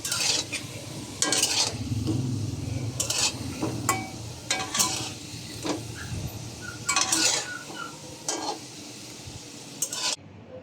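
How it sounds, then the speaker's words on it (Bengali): Spicy potato balls deep-fry in oil until golden, with a continuous bubbling sizzle broken by repeated clinks and scrapes of a utensil against the pan, close up and with no talk. "এগুলি সুন্দর করে সোনালি কালার করে ভেজে নেই"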